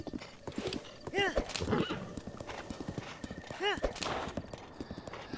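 Hooves clip-clop steadily as the horse Magnum gallops in the Breath of the Wild video game, with two loud whinnies standing out over the rhythmic beat, while someone talks over the action.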